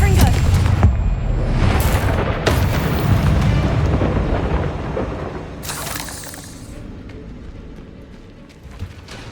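Confringo blasting spell explosions in Hogwarts Legacy: several loud, sharp blasts with crackling, shattering debris and rumbling tails, a big burst at the start and more around two and six seconds, fading toward the end.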